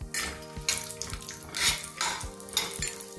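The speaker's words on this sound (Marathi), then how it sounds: "आता हे आपण हे तुपामध्ये छान तळून घेऊ" Raisins fry in ghee in a pan for coconut rice, a continuous close sizzle with soft bursts of crackling and occasional light metallic clinks of a stirring spoon.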